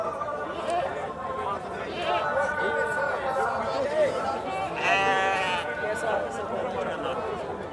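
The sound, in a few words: goats bleating at livestock market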